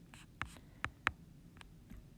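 Pen or pencil strokes on paper while writing out a fraction in a math lesson on fractions and percents: a few short, quiet scratching taps spaced across a couple of seconds, with no talking.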